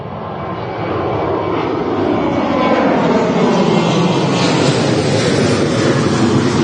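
A KLM airliner departs Manchester Airport for Amsterdam, its jet roar swelling in the first second and then holding loud and steady, with a slowly shifting engine tone and no talking.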